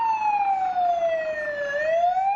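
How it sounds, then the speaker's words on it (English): Siren wails steadily on a film set during the shooting of a Hobbit battle film, its pitch gliding slowly down and then sweeping back up, loud and continuous with no voices over it. "Just let's cut that siren and keep shooting, please."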